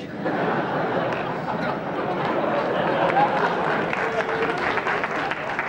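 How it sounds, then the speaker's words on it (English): Television studio audience applauding on a 1970s variety talk show, a continuous dense roar of clapping that holds steady throughout with faint chatter underneath. "You don't have to start the applause."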